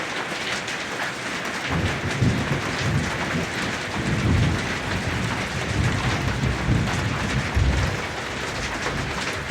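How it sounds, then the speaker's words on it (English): Heavy rain pours steadily while deep thunder rumbles in rolling waves directly overhead at 7000 feet elevation, loud and continuous throughout. "the sound of the thunder sounds like it's right overhead"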